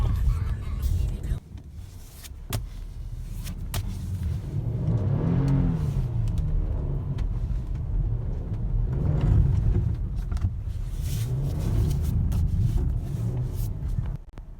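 A 2020 Kia Telluride S AWD drives through snow with a low, steady engine and tire rumble. The engine revs rise and fall in a few swells while people talk inside the cabin.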